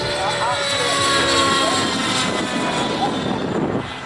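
A radio-controlled helicopter flips upside down, changes pitch, circles back nose-in and makes a low flyby, its steady engine and rotor drone loud and continuous throughout.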